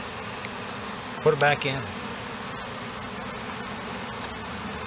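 Honey bees buzz steadily around hive frames from a newly installed package, a constant close drone with a brief spoken remark partway through.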